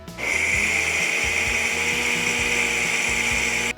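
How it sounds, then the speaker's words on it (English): A blender grinds dried chili peppers and their seeds into powder with a loud, steady high whine over a rattling, chopping low rumble, starting and stopping abruptly, close and alone. "So we're gonna run this through the blender like we did the onions to see if we can get the seeds to grind up more"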